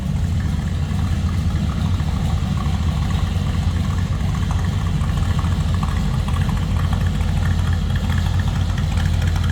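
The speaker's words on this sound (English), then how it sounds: "we got a little rumble coming out of this small block Chev" A 1986 Chevrolet C10 with a 350 small block V8 and mild comp cam idles with a steady, loud, close low rumble and a slightly uneven lope throughout.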